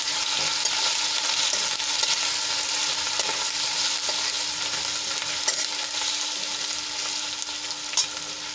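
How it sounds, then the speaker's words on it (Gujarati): Garlic and ginger paste sautés in a pan with a continuous close sizzle and crackle, punctuated by occasional stirring clicks and scrapes. "આપણે લસણ અને આદુની પેસ્ટ એડ કરીશું અને થોડીક સાંતળી લઈશું"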